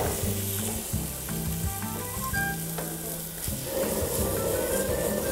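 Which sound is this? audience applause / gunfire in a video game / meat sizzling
meat sizzling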